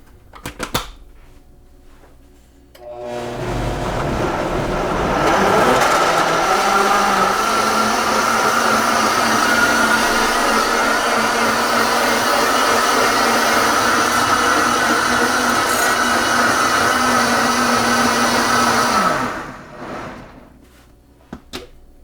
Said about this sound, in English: what's the point of watching a blender blend for 40 to 60 seconds?